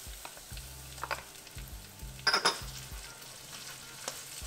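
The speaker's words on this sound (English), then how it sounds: "Just give them a quick stir to saute real fast" Green chilies sauté in a hot pan, with a soft sizzle under quick stirring scrapes and a brief louder clatter of the utensil against the pan, heard close with no talking.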